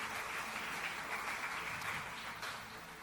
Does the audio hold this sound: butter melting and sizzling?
no